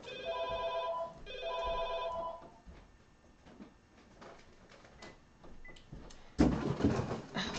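A telephone bell rings in two long, loud bursts separated by a short pause, then falls silent, followed by clattering handling noises and a sharp thump as the receiver is picked up and put back down.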